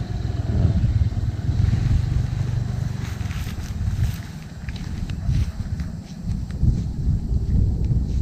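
A new motorcycle ridden by a woman during a driving lesson gives a steady low engine rumble throughout, close and fairly loud, with some scuffing and wind noise over it.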